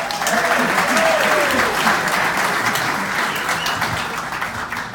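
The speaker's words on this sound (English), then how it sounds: "please give yourselves a round of applause." Wedding guests at a brothers' toast applaud steadily for about five seconds, a dense, sustained clapping that fills the room and fades slightly toward the end, with some voices mixed in.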